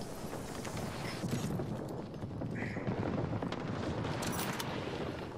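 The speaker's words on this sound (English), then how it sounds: "he's shooting at me again" Enemy gunfire in a video game: a steady patter of rapid small shots runs through the whole stretch at moderate distance, with no voice over it.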